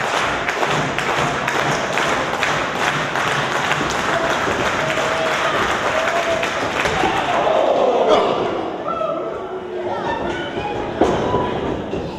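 Wrestling crowd at a lucha libre show in Texas City cheering in a steady, loud, broadband roar, with claps and shouts rising and falling; no talk over it.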